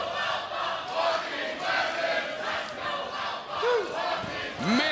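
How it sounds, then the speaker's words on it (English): A wrestling crowd at a Maple Leaf Pro match cheers and chants in waves, a dense, rhythmic roar of many voices filling the arena throughout. "Mixed cheers now as these two have earned more than the respect of the crowd as they are hearing chants"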